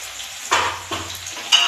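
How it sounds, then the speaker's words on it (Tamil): Onion with curry leaves, fenugreek, mustard seeds and urad dal sautéing in a pan, a soft sizzle broken by a few brief stirring scrapes, close and quiet, no voices. "நல்லா வதங்கட்டும்"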